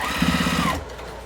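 A sewing machine back stitching on a tote bag runs in a short, rapid burst of stitches close by, then stops abruptly, leaving near silence.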